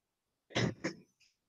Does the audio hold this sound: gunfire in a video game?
no